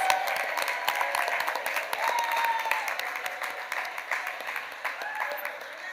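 A crowd applauds at a university medical school commencement ceremony, full and steady clapping that slowly thins toward the end, with scattered cheers and voices underneath.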